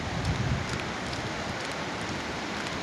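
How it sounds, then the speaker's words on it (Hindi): Steady hiss of rain falling in a village field, a dense continuous patter with a faint low rumble, no voices. "मुझे लग रहा बारिश।"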